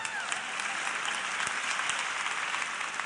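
Steady audience applause during a live lecture, a dense, even wash of many hands clapping for a few seconds with no voices over it.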